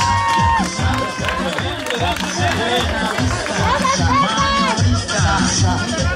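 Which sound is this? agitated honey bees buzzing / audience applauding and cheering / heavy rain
audience applauding and cheering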